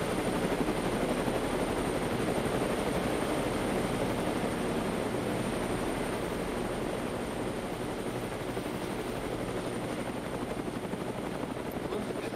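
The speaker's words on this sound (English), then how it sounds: "Look at all these helicopters" Helicopters roar in a constant, close, loud drone of rotor and engine noise that holds steady without a break, with a thin high whine running over it.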